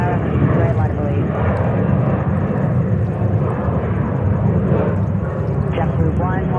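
A JetBlue airliner roars loudly during its takeoff roll on runway 6 right at JFK, giving a steady broadband jet rumble with a few faint radio-like tones above it.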